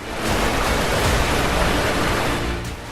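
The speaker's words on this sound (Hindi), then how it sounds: "तेज प्रवाह की आवाज ही इतनी खतरनाक है" The Tas river in a tribal village area runs strong and swollen in the monsoon, a loud, continuous rushing roar of water that fills the whole clip with steady broadband noise and no voices.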